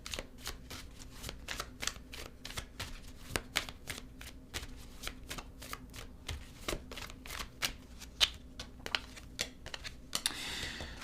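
Tarot cards are shuffled by hand in a quiet room, a fast run of close, crisp riffling flicks repeating steadily throughout, fairly soft and with no voice over them.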